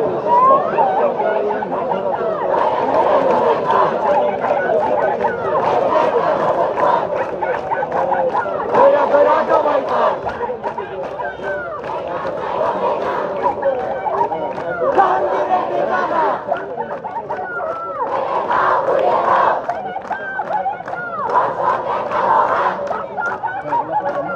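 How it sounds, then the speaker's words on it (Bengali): Students at a midnight protest at Dhaka University chant slogans together, a loud, continuous crowd roar with rhythmic shouted calls rising and falling over a background of babble. "বিভিন্ন স্লোগান দিচ্ছে।"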